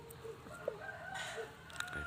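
Chickens cluck and a rooster crows faintly in a farmyard, with short calls scattered through a couple of seconds.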